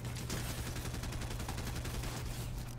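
Gunfire in the Fortnite game, rapid repeated shots forming a fast, even rattle under steady background noise, fairly quiet and with no talking.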